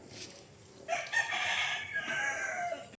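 A fighting rooster crows once, a loud strained call lasting a couple of seconds, close by outdoors near Dumaguete, Philippines.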